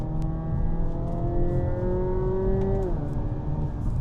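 A 2025 Hyundai Elantra N with a four-cylinder engine accelerates, its steady rising engine tone climbing through the revs, then dropping sharply as it shifts up near the end and carrying on at lower pitch.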